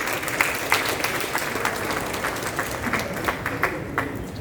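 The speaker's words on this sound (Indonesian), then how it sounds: "kita berikan tepuk tangan untuk teman-teman jurnalis yang hadir di kesempatan ini" An audience at a Supreme Court event in Indonesia applauds for journalists, steady, fairly loud clapping with individual claps standing out from the crowd throughout.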